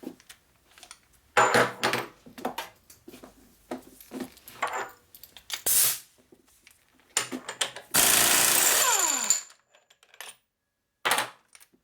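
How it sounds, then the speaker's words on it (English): A large air impact wrench (zip gun) is run on a 1.5-inch nut during primary, clutch and alternator repair on a 1988 Harley-Davidson FXR. The wrench gives a loud, close burst of hammering lasting over a second, amid scattered workshop clatter. "Big ass zip gun."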